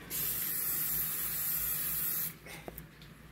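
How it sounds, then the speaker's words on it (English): A continuous hissing spray of cooking oil into an air fryer lasting about two seconds, close and fairly loud, then stopping, followed by a few faint clicks. "I'm going to spray the air fryer."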